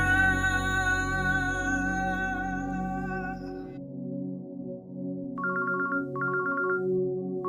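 Music fades out, then a telephone rings at midnight in short trilling bursts, two full rings and the start of a third, over a low steady hum.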